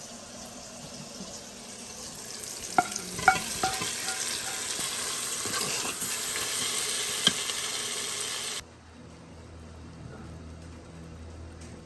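Steady sizzling of prawns and ingredients sautéing in an Instant Pot for biryani, with a few clinks of a utensil stirring, until the hiss drops away near the end to a quieter hum.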